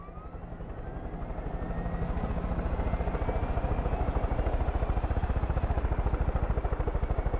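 A helicopter in the video game Far Cry 5, its rotor chop growing from a low swell to a loud, steady rapid thumping with a whining engine tone, heard alone with no talk.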